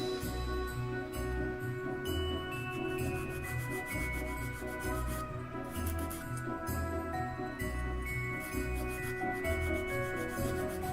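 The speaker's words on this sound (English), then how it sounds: "I got all of that sanded down" Parts of a model kit being sanded by hand, a continuous close scratchy rubbing that holds steady throughout, with faint tonal background hum and no talking.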